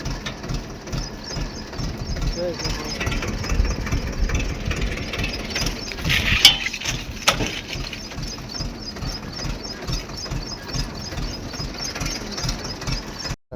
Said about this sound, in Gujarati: આ જો ટ્રેક્ટર હાલું જાય છે